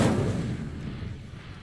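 An Incendio fire spell cast in the Hogwarts Legacy video game, a sudden booming, blast-like whoosh that hits hard at the start and then rumbles and fades over about a second and a half.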